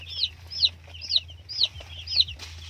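Young broiler chicks in a brooding pen with rice hull bedding make repeated chirping calls, about five in quick succession, fairly close, over a steady low hum.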